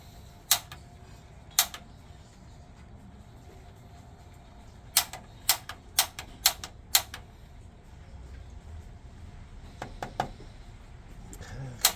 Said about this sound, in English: Eventually, I'll keep clicking and this will turn blue.